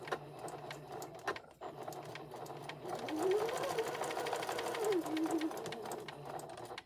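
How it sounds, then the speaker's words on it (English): A sewing machine chain stitches fabric pieces for a memory bear, running in a fast continuous whir with a rising and falling motor pitch, close up. "this is what I call chain stitching, where I keep everything together, saves time"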